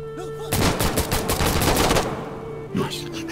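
Gunfire in the video game Insurgency Sandstorm, a dense burst of rapid automatic shots lasting about a second and a half, then a brief later report, over a constant game background hum.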